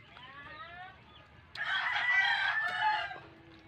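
A large five-kilo rooster lets out a full cock-a-doodle-doo at a moderate distance, following softer clucking and a brief lower call, with faint background noise around it.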